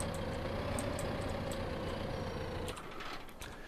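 A farm vehicle's engine in Farming Simulator 15 idles with a steady, moderately loud rumble, then cuts off abruptly near the end, leaving a quieter fading hum and faint clicks.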